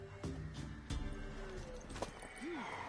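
A horse in the video game The Witcher 3: Wild Hunt, with hoof clip-clops and a short snort or whinny at moderate level, mixed with other game sounds and voices.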